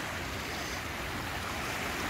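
A river running high in winter near Norwich, its steady broadband rush of water constant and fairly close with no pauses, alone without voices.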